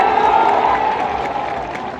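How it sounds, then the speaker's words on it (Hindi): Crowd at an outdoor gathering applauds in a dense, continuous wash of clapping for about two seconds, fairly loud and close, with a steady tone running beneath it. "इसके लिए जोरदार ताली बजाओ सब लोग।"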